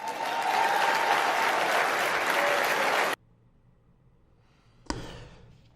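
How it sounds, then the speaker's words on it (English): An audience gives a long, loud ovation for Ashli Babbitt's mother, dense sustained applause that cuts off abruptly, followed by near silence and then a brief burst of clapping. "to have that ovation for as long as it went on for her mom was just great"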